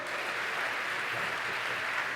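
Church congregation applauding during a worship service, a steady dense wash of clapping that holds evenly throughout with no voices over it.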